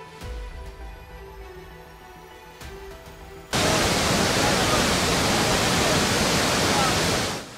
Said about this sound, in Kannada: ಡ್ಯಾಂಗಳು ಹಾಲ್ನೊರೆಯಂತೆ ಧುಮ್ಮಿಕ್ಕುತ್ತಿವೆ